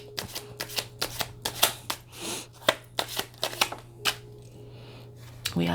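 A deck of cards shuffled for a tarot-style card reading, giving a string of crisp, quick riffles and snaps close to the microphone at a soft level, with a faint hum behind.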